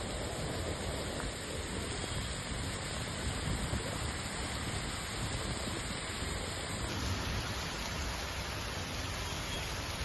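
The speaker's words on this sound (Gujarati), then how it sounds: "આજે વહેલી સવારથી જ વરસાદ ચાલુ છે" Unseasonal rain falling steadily in Kheda, a dense, continuous hiss of rainfall on surfaces that stays loud and even throughout, with no voices.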